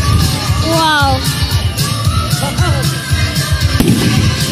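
Fireworks on 14 July in Excideuil: sharp explosive bangs and crackles, with one loud burst near the end, under crowd whoops, cheers and nearby chatter.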